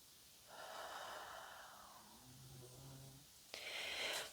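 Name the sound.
dog snoring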